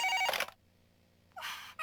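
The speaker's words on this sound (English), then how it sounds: "Answer the phone or don't." Two short bursts of an electronic telephone bell ringing in the horror game Twilight Syndrome: Saikai Ghost Story, clear and close, separated by a brief silent gap.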